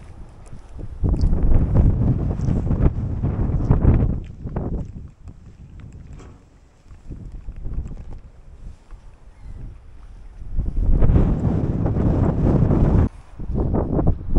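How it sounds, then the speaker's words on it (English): Wind gusts buffet the microphone out on an open wharf, a loud, rumbling low roar that swells and eases in long waves without any voices. "it's a bit windy out on the wharf"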